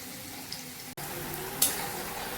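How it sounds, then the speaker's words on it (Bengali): Potatoes sizzle in oil in a pan, a steady, soft frying hiss with a brief break and a sharp scrape or clink partway through. "এই যে আলুগুলোকে ভেজে নিচ্ছি ভালো করে লাল করে ভেজে নেব"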